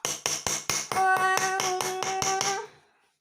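A hammer strikes repeatedly while a dinosaur model is dug out, a fast run of about a dozen sharp, ringing metallic taps in a steady rhythm, close and fairly loud, ending with a short ring-out.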